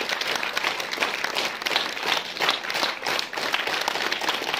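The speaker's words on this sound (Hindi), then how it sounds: "तालियां बजती रहनी चाहिए भाई" A school audience claps at an Independence Day award ceremony as a memento shield is presented, a sustained, fairly loud crowd applause with no voices over it.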